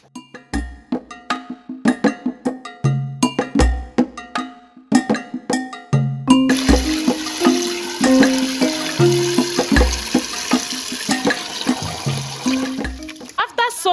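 Water pours steadily over dried cassava flakes in a bowl for overnight soaking, a continuous splashing rush joining partway through over a rhythmic percussive background track.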